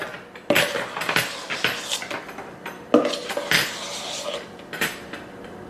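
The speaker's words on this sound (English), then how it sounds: "Just take it and fold it over." Cheesecake mixture being folded slowly in a bowl, with irregular clinks and scrapes of a utensil against the bowl arriving in uneven bursts, close and fairly loud.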